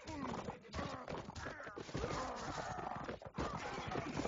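Cavalry horses charge in a medieval strategy video game, their rapid clip-clop hoofbeats and occasional whinnies rolling on continuously under a commentator's voice.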